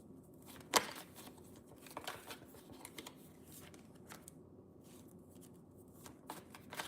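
Astrology cards are shuffled and handled up close in soft, irregular riffles and flicks, fairly faint, with a sharper snap near the start and no talking.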